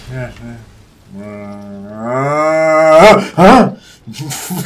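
A man imitates a cow's moo with his voice, a long drawn-out lowing call that rises and swells loud, followed by a couple of shorter guttural bursts, heard alone and close.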